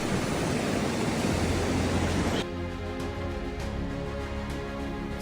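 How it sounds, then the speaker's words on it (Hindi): River water rushes beside a riverside camp at Sheera on the Hampta Pass trek, a loud, steady broadband flow that drops slightly in level partway through. "इस पानी के साउंड के साथ हम सोए रात भर।"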